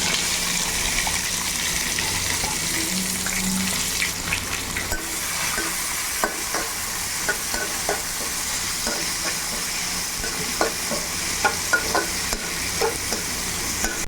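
Onions frying in hot oil with cinnamon, bay leaf and cloves make a loud, continuous sizzle, with a rapid run of stirring clicks and scrapes growing busier in the second half; nobody speaks.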